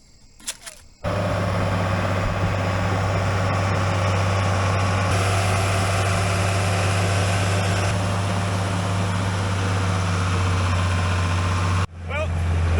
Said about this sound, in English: The starter will not spin that engine over fast enough.